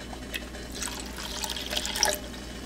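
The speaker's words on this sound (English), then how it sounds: "you may add 1/2 cup of water" Half a cup of water is poured into chocolate melted over a double boiler, giving a soft splashing trickle that swells briefly near the end against a low steady background, with no talk.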